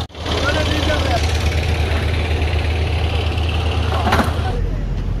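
A trawler boat engine runs on the Patharghata to Mahipur crossing, a steady loud low droning rumble throughout, with faint voices mixed in.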